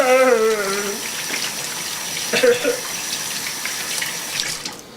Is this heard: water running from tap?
yes